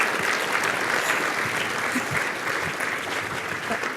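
Steady audience applause at the close of an evening lecture on engineering fair, unbiased AI, a dense wash of many hands clapping that holds for the full length at a fairly loud level with no one speaking.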